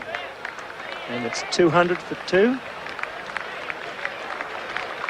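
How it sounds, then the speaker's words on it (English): A ripple of applause spreads around the crowd at the Adelaide Oval cricket ground during an Australia vs West Indies test match, distant and steady beneath a commentator's voice. "the ripple of applause going around the Adelaide Oval"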